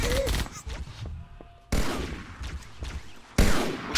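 Bursts of loud automatic gunfire from the video game Halo: Combat Evolved, several sharp volleys separated by quieter gaps with faint tones, close and harsh.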